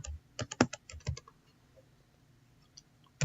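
Command typed on a computer keyboard, several quick clusters of close key clicks, a pause, then one more keystroke, no talking.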